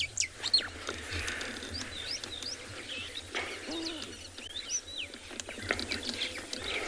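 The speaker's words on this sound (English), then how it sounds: "All those wattle starlings" Busy chorus of wattled starlings and other birds chirping and calling in open savanna at sunrise, with scattered sharp whistles and chatter over a steady low background hum.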